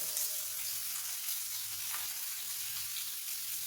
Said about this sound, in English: we're going to caramelize the onion. To do that, the best thing always is just a pinch of salt